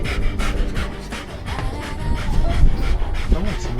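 A dog pants rhythmically inside a car on a road trip toward the Austrian mountains, with quick, steady breaths close by and people talking over it.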